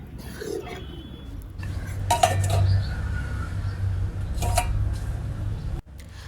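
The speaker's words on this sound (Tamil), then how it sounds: "இப்போது இது எல்லாமே நல்லா கிளறி விட்டுறணுங்க. அடி பிடிக்காமல் கிளறிட்டே இருக்கணும்." Sweet pongal with ghee being stirred in a pot, with a few clinks and scrapes of a utensil against the metal over a steady low background hum.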